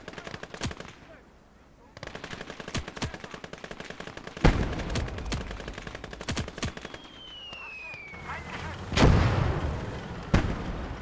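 In the video game Gates of Hell Ostfront, mortar explosions thump amid rapid machine-gun bursts and gunfire, with heavy booms toward the end and a whistling shell streak before one.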